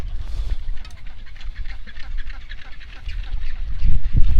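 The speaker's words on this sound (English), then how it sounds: "Within the bustling penguin rookery, I noticed imperial shags flying here and there with striking blue eyes." Rockhopper penguins in a bustling Falkland Islands rookery call with harsh, honking brays, a dense overlapping chorus that swells louder toward the end.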